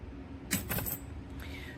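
Clasps on a mixi PC hardside rolling carry-on suitcase unlock with a brief cluster of sharp metallic clicks and a jangle, close and fairly quiet, followed by faint handling noise.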